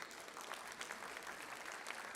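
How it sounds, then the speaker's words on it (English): Soft, distant applause from a conference audience for a teacher seated in the hall, a dense steady patter with no voices over it. "Just give me a big round of applause to her, please"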